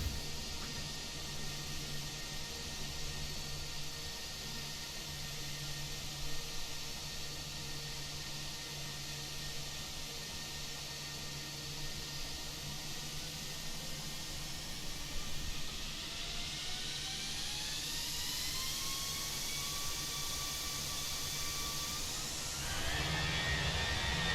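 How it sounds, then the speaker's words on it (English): The left engine of a Fenix airliner in the MSFS2020 flight simulator throttles up after both engines are started. A steady whine and hiss slowly build into rising spool-up tones and end in a louder roar, with no speech. "Both engines started. We're going to throttle up the left-hand engine."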